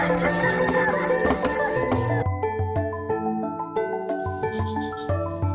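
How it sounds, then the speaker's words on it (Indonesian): A rooster crows loudly and close, followed by clucking and rhythmic pounding of a pestle on a rice mortar, with some musical tones layered underneath. "membuat ayam jantan berkokok"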